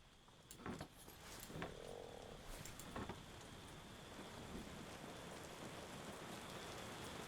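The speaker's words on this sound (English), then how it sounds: "Seems we're in for a rainy night." Rain falling at night in the tavern-management game Tavern Keeper, a steady soft hiss of drops with a few louder knocks and croaking sounds early on.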